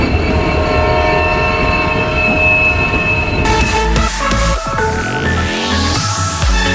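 A local passenger train in West Bengal rolling along, with a loud steady rumble and tonal wheel hum, then sharp rhythmic clatter and squealing as the carriage crosses points, close and continuous.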